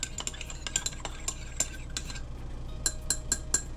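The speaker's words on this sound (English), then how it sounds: "Okay, so just mix it together" A spoon stirring DIY peppermint facial toner ingredients in a glass container, giving light repeated clinks and scrapes at close range over a soft background hum.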